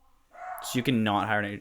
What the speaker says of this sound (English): If you guys can hear that dog barking